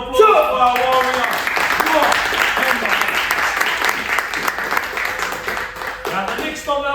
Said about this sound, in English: how about a round of applause for our warrior?